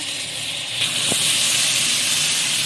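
Tomatoes frying in a pan with ginger and garlic, a loud, steady sizzling hiss close by, with one brief clink partway through and no voices.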